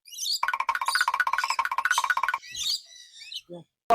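A rapid run of chattering calls from various parrots at Kisna Nature Park, bright and close, followed by a few scratchy squawks and short rustling noises.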